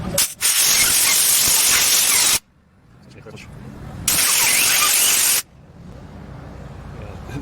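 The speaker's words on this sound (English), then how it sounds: "You're gonna spray this one." A spray can blasts onto the rusty donut exhaust gasket area of a 1997 Honda Civic in two long, loud hissing bursts, separated by quieter background noise.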